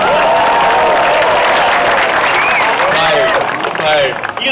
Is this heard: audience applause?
yes